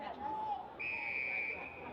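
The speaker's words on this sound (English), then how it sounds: "And a free kick and a whistle." An umpire's whistle blows for a free kick at a WAFL Colts Australian football match, a thin sustained whistle tone heard at a distance over a commentator's voice and faint crowd murmur.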